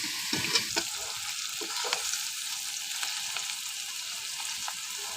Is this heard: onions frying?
yes